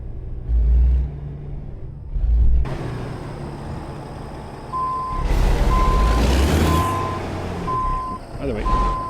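Reversing beeps sound in a steady repeating pattern from a Kenworth W900 tractor backing up without its trailer in American Truck Simulator, over a low diesel rumble with a burst of air hiss, under talk.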